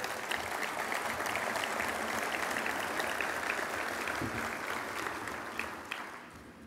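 Audience applause fills a defense-industry conference hall honoring a Navy vice admiral, a dense, sustained wash of clapping that holds steady before gradually thinning toward the end.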